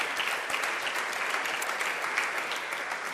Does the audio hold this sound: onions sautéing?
no